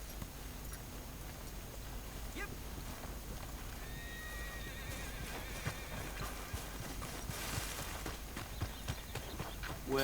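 Horse hooves clip-clopping in Red Dead Redemption 2, a steady, fairly faint hoof rhythm with a whinny, set against a constant outdoor game ambience.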